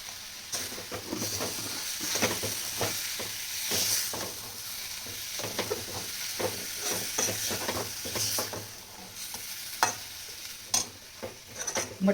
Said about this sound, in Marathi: मटकी चांगली परतून घेतली मसाल्यामध्ये.